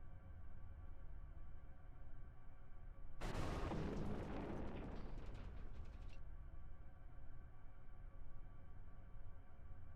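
Missiles launching in the video game Final Fantasy VIII: one loud, dense burst of firing and blasts lasting about three seconds, rising abruptly above a quiet steady background and then cutting off.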